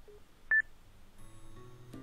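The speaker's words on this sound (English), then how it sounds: "I tried calling Shigure several times but couldn't get through to her." A short electronic dial tone beep, then a soft run of synthetic tones and a faint chime, quiet and sparse, a phone dialing in the video game Nekopara.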